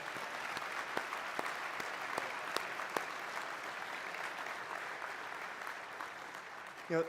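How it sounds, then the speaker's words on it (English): Applause from the audience after a presentation at an international conference on WWII, a fairly distant, steady patter of many hands with occasional sharper claps, fading slightly before a voice begins at the very end. "Let's give him a huge round of applause."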